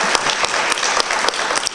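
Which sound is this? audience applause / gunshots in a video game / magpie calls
audience applause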